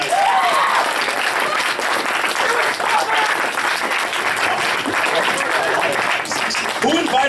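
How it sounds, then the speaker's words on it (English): A large crowd at a Midwest Furfest 2015 voice acting panel breaks into loud, sustained applause, dense clapping mixed with cheers and voices that carries on for several seconds. "Give a round of applause!"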